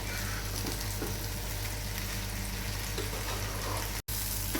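Rice grains frying in a pan for prawn pulao, a soft steady sizzle with faint stirring and a low hum, cutting out briefly near the end; no speech.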